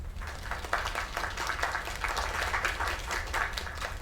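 A crowd applauds in the video game Lake after a singing performance, giving a steady, dense wash of clapping that holds at an even level for several seconds over a low background rumble.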